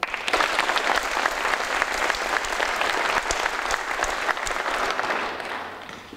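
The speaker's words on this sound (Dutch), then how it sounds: "Mag ik een groot applaus voor minister Carola Schouten" Sustained, dense applause from an audience at an evening food debate, welcoming the Dutch minister; steady and full for about six seconds, then easing slightly at the end, with no talking over it.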